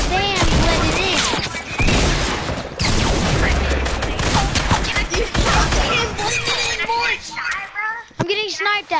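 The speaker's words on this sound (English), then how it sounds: "I'm getting sniped at!" Gunfire and sniper shots from a PS4 shooter video game crackle loudly in bursts, layered with excited players talking over the game audio.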